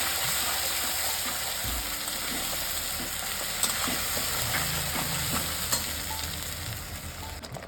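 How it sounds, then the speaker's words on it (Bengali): Ground spice paste dropped into hot oil with cumin sizzles and spatters steadily for several seconds, a close, continuous frying hiss with occasional stirring clicks, while prawn and banana flower curry is being made. "আমি যে মশলাটা পেস্ট করে রেখেছিলাম সেটা একবার এই মশলার মধ্যে দিয়ে দেবো"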